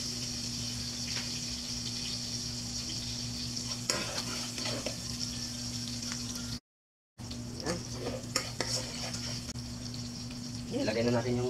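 Onions sautéing for pansit with chicken gizzards, a continuous close sizzle with intermittent stirring scrapes and clatter, a brief dropout midway and a burst of bubbling, watery sound near the end.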